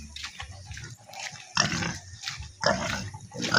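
Piglets awaiting castration squeal in loud, sharp bursts, about three squeals repeating roughly once a second, close by with grunting and rustling between them.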